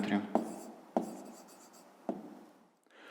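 Pen strokes writing an answer by hand on paper during a fifth-grade geometry exercise, with a few sharp taps and scratchy scribbling bursts over about three seconds, close and fairly quiet.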